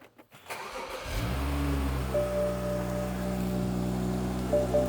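A BMW E30's engine cranks briefly and catches at about one second, then settles into a steady, close idle that runs continuously to the end, with no talk over it.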